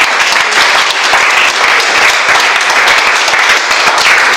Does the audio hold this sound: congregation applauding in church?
yes